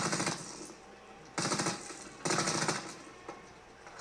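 Gunfire in a CryEngine destruction test game, three rapid automatic bursts with brief gaps between them, loud and close, with no voices.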